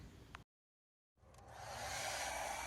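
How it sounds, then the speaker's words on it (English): A handheld blow dryer whirs up after a brief gap of silence and settles into a steady, close airy roar while heating a magnet stuck on a car's paint. "I actually just used the blow dryer and a spatula to loosen up the magnet"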